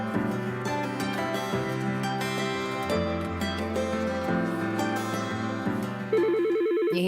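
A telephone ringtone plays as a repeating electronic chime over steady background music, loud and continuous, with a brighter warbling ring pattern entering near the end.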